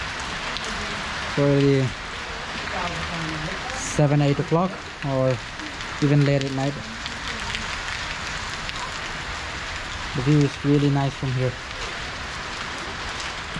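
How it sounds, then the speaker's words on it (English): Steady rain falls outdoors at a hillside viewpoint near Kathmandu, a constant close hiss of drops running through the whole stretch while someone speaks in short bursts over it. "It's been raining since 2 o'clock."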